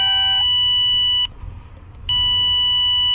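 A Chevy/GMC instrument cluster sounds its electronic chime as the ignition key turns on: a loud, steady, harmonic-rich tone that cuts out for under a second and then resumes, alone without talk.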